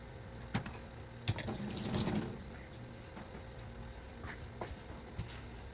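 Tap water runs into a pot of frozen chicken in a kitchen, a faint steady pour with a few sharp knocks and clanks, and no one talking.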